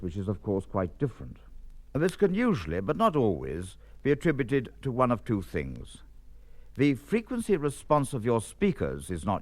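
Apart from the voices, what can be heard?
No everyday noise stands out behind the speech.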